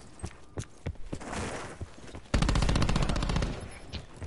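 Gunfire in Black Ops 4: a few separate sharp shots at first, then a loud, sustained rapid-fire automatic burst of over a second, close and dominant, with game noise underneath.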